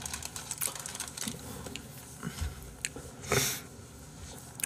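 Typing on a computer keyboard indoors, a quiet run of light, irregular key clicks with a few louder taps and a sniff, no talking over it.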